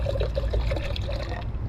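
Liquid trickling and splashing as about half a litre of water is poured into a container on a camping gas stove, over a low hum.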